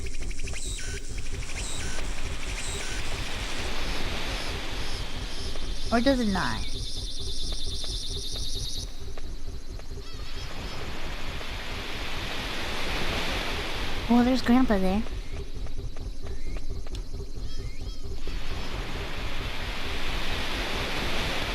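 Ocean surf in the video game Boku no Natsuyasumi 2, a steady hissing wash of waves that swells and recedes in slow cycles, mixed with sustained electronic tones and chirps, under occasional talking.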